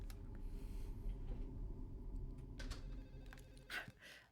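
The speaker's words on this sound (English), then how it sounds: "I really need it to stop ringing." An old telephone bell rings in Silent Hill 4: The Room, faint repeated trills over a low droning game ambience, with scattered clicks and thuds in between.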